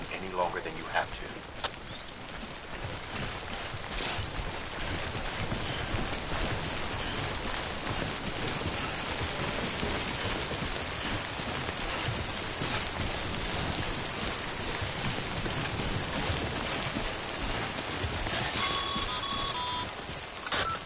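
Steady heavy rainfall of timefall in Death Stranding, a dense continuous hiss of rain with a few faint electronic beeps near the end.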